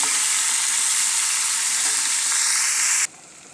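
Meat seasoned with turmeric and salt fries in a pan with a loud, steady broadband sizzle that runs unbroken for about three seconds, then drops abruptly to a much quieter hiss.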